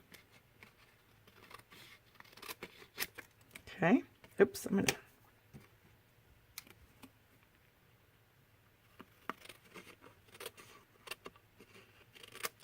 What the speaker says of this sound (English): We're just going to cut that off. Grab some scissors here.